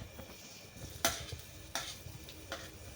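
Onion and chillies sizzle faintly in a pan for Maggi, a soft frying hiss under occasional stirring scrapes and a few sharper clinks of a utensil against the pan.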